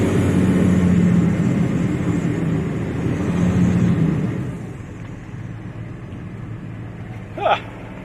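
A Mercedes dragged along with its rear wheels locked gives a steady low scraping rumble that fades after a few seconds, followed by quieter background noise and a short faint squeak near the end.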